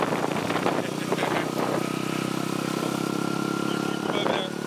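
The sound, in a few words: small motocross motorcycle riding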